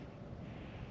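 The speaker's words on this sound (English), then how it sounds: "Sorry about the wind, it's windy today." Steady low desert wind rumble buffeting the microphone in Franconia, Arizona, a continuous broadband roar with no voices.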